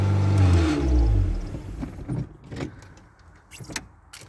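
A Toyota MR2 Mk1 engine idles with a deep, loud rumble after a cold start, then is shut down and fades away, leaving a few faint clicks and rattles.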